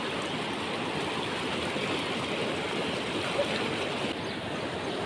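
Water rushes steadily and continuously, a dense broadband wash of a flowing river with no voices, fairly close and even in level.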